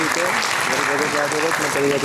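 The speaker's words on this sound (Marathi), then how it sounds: "एका ज्योति मॅमसाठी जोरदार टाळ्या झाल्या पाहिजे" An audience at a film trailer launch breaks into steady, sustained applause, a dense wash of clapping that continues throughout with no pause.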